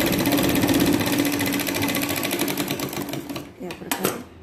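Sewing machine stitching the lining of a katori blouse: a loud, fast, steady needle rattle running continuously, slowing and stuttering near the end, with a voice speaking over it.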